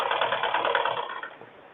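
A sewing machine stitches the lining of a blouse in a rapid, steady mechanical whir with a faint ratcheting pulse, close and alone, easing off toward the end.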